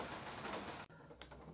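Steady rain falls on a cold day, a dense close hiss of drops on surfaces near a parked carbureted car that stops abruptly, leaving faint scattered drips.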